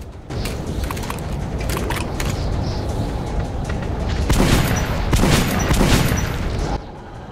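Gunfire in the video game Metro 2033 Redux, a steady dense stretch of shots and booming blasts that grows louder and heavier toward the end before cutting off abruptly.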